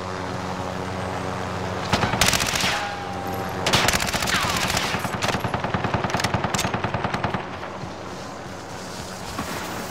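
Helicopter killstreak gunfire in Call of Duty: Modern Warfare, long rapid bursts of automatic fire over a steady engine-like rumble, loud and close, with quieter stretches between volleys.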